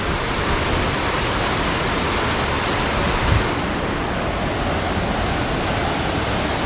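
A waterfall in Carmen, Calinan, Davao roars as a steady, loud broadband rush of falling water that fills the whole clip without pause.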